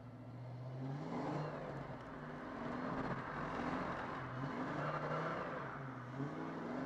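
A Ford Mustang drifts around a pole on a foggy winter day. Its engine revs in a steady, sustained roar that swells and eases, close and fairly loud, with no talking.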